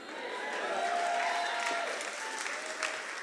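Steady applause from a crowd at a political rally, a continuous wash of clapping that holds for a few seconds without pause.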